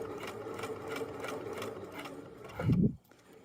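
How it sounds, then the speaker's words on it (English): A sewing machine back stitching reinforcement stitches on fabric, a quick even close mechanical whir of needle strokes that speeds into a brief louder burst before stopping, no talking. "I'm going to back stitch, and then I'm going to just sew right on top of where I've already sewn."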